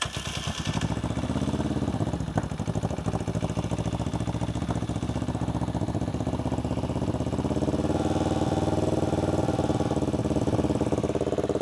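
A 1984 Suzuki GR650 motorcycle engine runs steadily nearby, a continuous low rumbling idle with mechanical clatter, loud and unbroken throughout.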